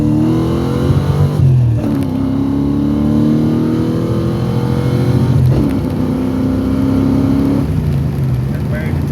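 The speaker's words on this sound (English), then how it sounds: "Old out motor runs pretty good. She's got a lot of blow by, but she sputters and misses and carries on." An old Mercury Capri foxbody engine with heavy blow-by revs hard while driving, rising in pitch through the gears with two clear shift breaks, loud and continuous from inside the car.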